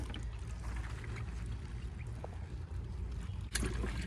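Water poured from a container onto newly planted echinacea in a Maryland summer garden, a steady soft splashing and trickling into moist soil, close and continuous, with a brief sharper splash near the end.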